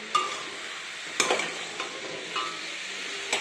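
Potatoes and tomatoes being stirred as they fry in a pan for a spicy potato curry: sharp, repeated utensil scrapes every second or so over a soft, steady sizzle.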